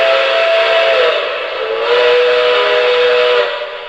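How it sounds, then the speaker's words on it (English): A sustained steam whistle on a brass model train blows alone, steady and fairly loud, with a brief dip in the middle before sounding again, lasting several seconds. "I'll blow the whistle"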